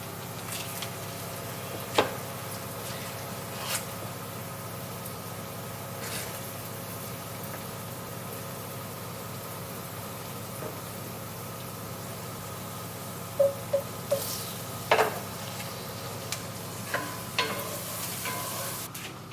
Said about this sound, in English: I'm gonna throw some butter in here.